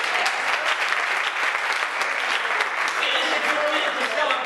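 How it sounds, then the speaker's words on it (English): Church congregation clapping in praise, a dense, steady wash of applause from many hands that fills the space at a constant level without a break. "Come on, give God a hand clap of praise."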